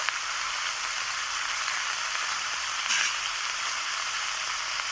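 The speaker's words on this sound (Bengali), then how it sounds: "লঙ্কার গুঁড়ো দিয়ে আমি এটাকে ভালো করে কষিয়ে নিচ্ছি" Spices with salt, turmeric and chili powder sizzle steadily in a hot pan for a rohu fish curry, a constant close hiss with a brief stir partway through.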